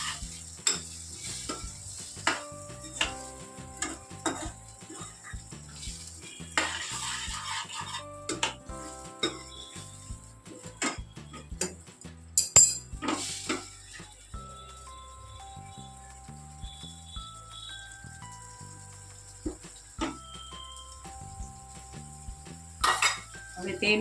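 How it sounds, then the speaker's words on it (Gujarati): Coriander-cumin powder being stirred into a frying pan of rajma curry, with a soft sizzle under repeated metal clinks and scrapes of a spoon against the pan. "આપણે ધાણા જીરું નાખીને બધું મિક્સ કરી લઈશું"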